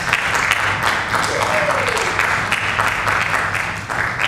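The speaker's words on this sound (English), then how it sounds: "Let's give them a round of applause." An audience applauds members of a middle school percussion ensemble at their final concert of 2023, a sustained, even burst of clapping from a room full of people.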